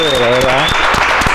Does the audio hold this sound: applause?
yes